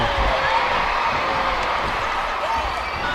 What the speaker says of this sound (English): But Zack Ryder, and you hear the fans right now cheering for Ryder, but Ryder tags out to Samoa Joe.